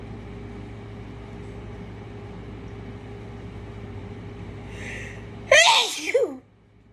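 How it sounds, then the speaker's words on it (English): Over a steady low hum, a single sharp, loud sneeze bursts out near the end, followed by quiet. "I'm about to sneeze."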